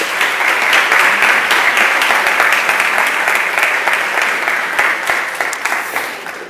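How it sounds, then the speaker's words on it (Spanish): An audience at a talk applauds steadily for several seconds, dense clapping at a constant level that fades slightly toward the end. "Un fuerte aplauso para ellos, por favor."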